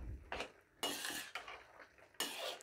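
Grated carrot halwa is mixed and roasted in a pan, heard as several bursts of a spoon scraping and clattering against the metal, separated by brief quieter gaps.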